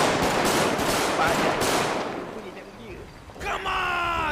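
Rapid automatic gunfire from a GTA game set in Malaysia, a dense burst of shots for the first couple of seconds, then fading out as a voice speaks near the end.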